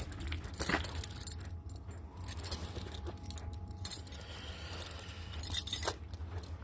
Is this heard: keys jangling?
yes